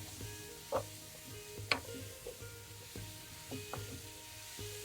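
Chopped tomatoes sauté in a spice mixture for a traditional Maharashtrian katachi amti, a low, quiet sizzle broken by a few sharp clinks and taps as they are pressed and mashed in the pan.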